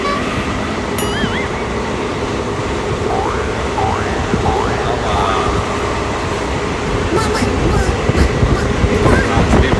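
A passenger train rumbles steadily at Dindigul Junction railway station, a loud, continuous clatter with brief high horn-like tones rising over it and voices faintly mixed into the crowded platform noise.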